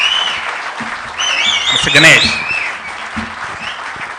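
Audience clapping at an alumni meet, a moderate wash of applause under an amplified announcer's voice calling a name, with the clapping continuing throughout.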